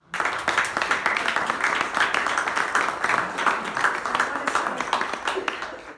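Applause from an audience at a US–Uzbekistan memorandum event with Webster University, steady dense clapping that holds for about six seconds and then fades at the end.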